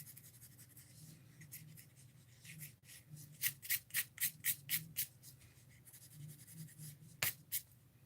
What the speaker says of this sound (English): we're going to take our pencil and we're going to erase these pencil marks